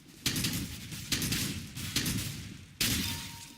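Four heavy, booming gunshots from the video game CS:GO a second or so apart, each cracking sharply and then ringing out, with no voices.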